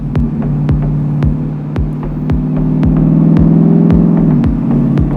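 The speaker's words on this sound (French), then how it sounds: "une belle accélération là en ligne droite, franchement. Un petit launch" A Ford Mustang V8 with open exhaust valves and automatic gearbox launches hard: a loud, deep throbbing engine drone rising steadily, punctuated by regular sharp ticks, continuous and close with no talking.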